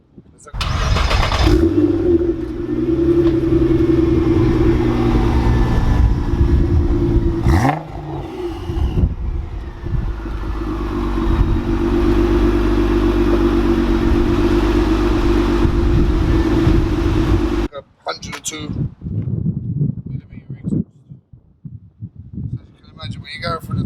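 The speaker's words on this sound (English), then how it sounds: "massive exhaust, which will show you from the rolling footage. You'll hear it sounds like a beast." Litchfield LM20 car with a massive exhaust starts up with a sudden bark and runs at a loud, deep, rumbling idle with a blip of revs. The engine then cuts off and a person talks.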